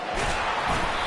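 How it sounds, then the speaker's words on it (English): Loud, continuous roar of a college football stadium crowd, dense and steady with no clear breaks. "Crowd bringing the energy and noise early."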